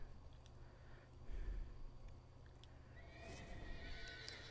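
A horse in the game DDO gives a whinny, a rising, wavering neigh in the second half over soft hoof clops and faint background noise, fairly quiet overall.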